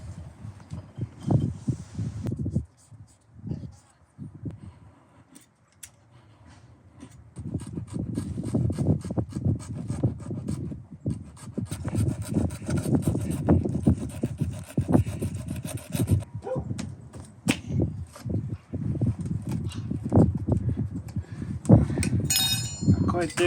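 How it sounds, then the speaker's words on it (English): A small hacksaw cuts a plastic piece during a truck camper upgrade, close-up rasping strokes in uneven bursts with pauses, a few clinks and a brief scrape near the end. "I'm going to very gently cut this plastic piece with a little small hacksaw that I have"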